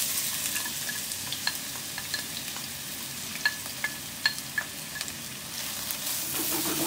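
Onions frying in a pan, cooking until browned and caramelised. A steady sizzle runs underneath while a utensil gives a series of light clicks and scrapes as the onions are stirred. No voices.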